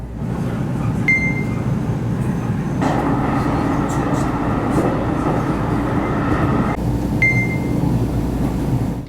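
A JR Central local train bound for Toyohashi rumbling steadily along the rails, heard from a seat inside, with a continuous low drone and faint wheel noise throughout, brief high tones appearing now and then.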